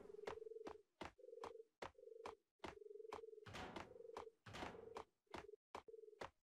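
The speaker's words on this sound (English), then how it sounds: "There's birds in here." Pigeons cooing in the Max Payne PC game, a series of repeated coo calls broken by sharp clicks and a couple of brief noisy bursts, faint and steady.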